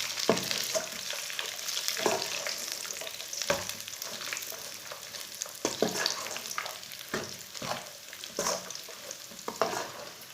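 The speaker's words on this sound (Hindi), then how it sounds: "ड्राई फ्रूट डाल के इसे दोबारा 5 मिनट के लिए भून लेना।" Peanuts and dry fruits roast and sizzle in a pan for makhandi halwa, with a steady crackle broken by repeated scraping stirs of a spoon, close and fairly loud, no voices.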